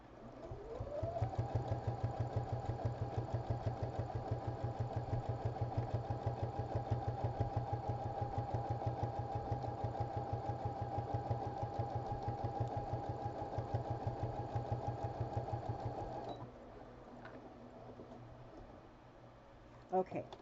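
Sewing machine running a back stitch on a shaggy fabric bag, a rapid steady mechanical whir with even needle clatter for about fifteen seconds, then stopping, close.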